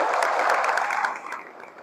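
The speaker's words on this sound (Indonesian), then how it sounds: "Tepuk tangan buat apa?" Seminar audience at SMK Amaliah Bogor applauding, a dense wash of many hands clapping together that holds steady and then thins out toward the end.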